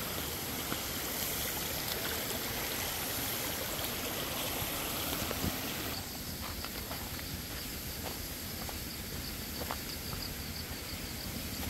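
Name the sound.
stream flowing across the road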